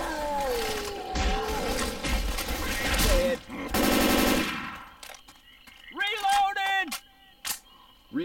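Gunfire from the video game Left 4 Dead 2 rattles in rapid bursts close up, mixed with game effects and voices, followed by sparser shots and electronic tones as the action dies down.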